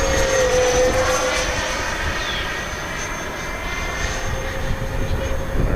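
A Freewing twin 64mm F-14 Tomcat RC jet flies overhead on its landing approach with gear down, its ducted-fan whine constant and fairly loud, and no voice over it.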